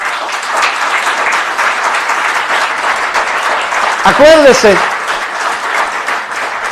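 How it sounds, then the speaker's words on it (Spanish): Church congregation applause: loud, continuous clapping from a crowd throughout, with a voice briefly speaking and a short tonal sweep midway over the clapping. "Entonces den un fuerte aplauso al Señor."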